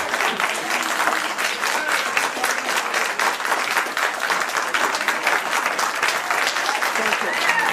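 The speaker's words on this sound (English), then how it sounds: "applause till the end." Dense, sustained audience applause at a panel discussion on Muslims and radical Muslims, steady and loud from start to finish with no break.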